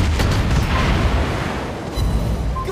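Torpedo hits in the naval combat game World of Warships Blitz, heard as rumbling, booming explosions with deep low-end roars that swell, ease off, then surge again over a few seconds, with no voices over them.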